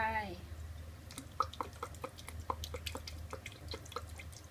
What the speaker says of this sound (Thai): แล้วก็จะใส่ซีอิ๊วขาวนะคะ ใส่ซีอิ๊วขาวลงไป